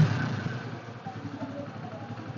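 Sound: motorcycle engine idling

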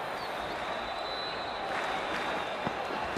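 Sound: cricket stadium crowd cheering and applauding

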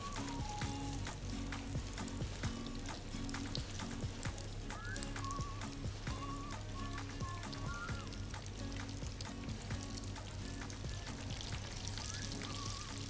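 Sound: oil sizzling while frying in a pan

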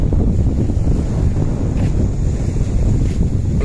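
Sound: strong sea waves and wind on a boat

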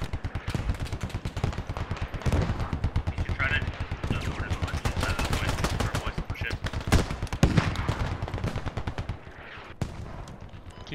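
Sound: gunfire in the video game Squad

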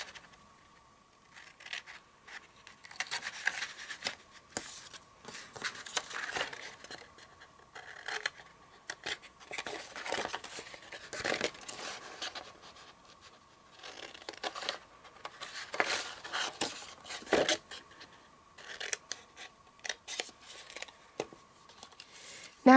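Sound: scissors cutting paper rectangles

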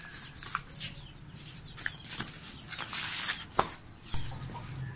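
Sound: chickens clucking

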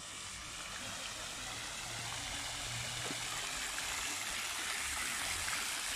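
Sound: water splashing in a city fountain in Limoges

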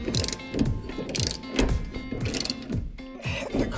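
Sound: ratchet wrench loosening suspension bolts on an RV

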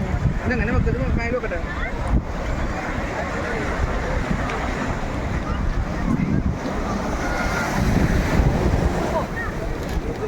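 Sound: sea waves on beach

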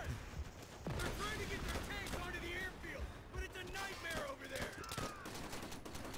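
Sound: machine gun fire in video game Call of Duty World at War

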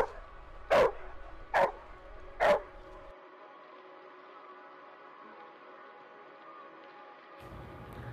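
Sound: reactive dog barking

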